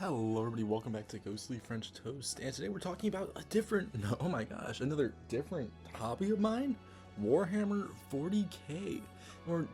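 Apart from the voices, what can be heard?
No everyday noise stands out behind the speech.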